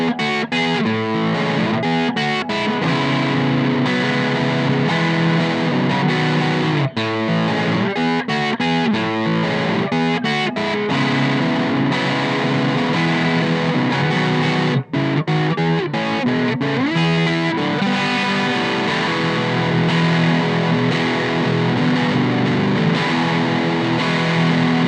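Heavily distorted electric guitar on both pickups through a Koch Pedaltone distortion channel, riffing loud and continuous, with chugging rhythmic chords and brief pauses between phrases.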